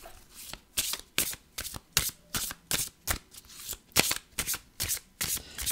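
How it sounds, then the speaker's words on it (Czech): A deck of cards is shuffled close up in a quick run of about a dozen crisp riffle bursts, each a short rattling flutter separated by brief pauses. "taky asi zamíchám ty karty"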